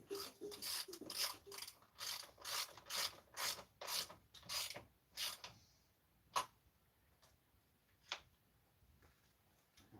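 Ratchet tightening a cable on a motorcycle, with a quick run of about a dozen rhythmic clicking strokes, then a few isolated clicks spaced out after a pause, all close and fairly quiet with no talk.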